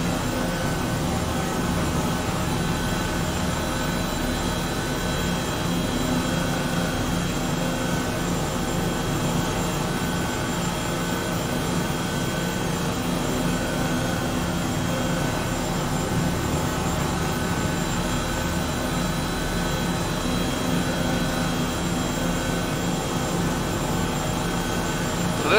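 A helicopter in a video game gives a steady, unbroken engine and rotor drone that holds at one level throughout, with no talking.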